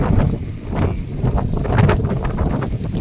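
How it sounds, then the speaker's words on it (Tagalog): Steady, loud wind buffeting the microphone with a constant low roar and gusty rumble throughout. "Hangin."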